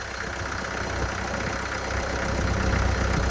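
A 2009 Kubota L4400E tractor engine idles at low RPM, a steady continuous rumbling drone with a broad noisy hiss, even in level throughout, alone without speech.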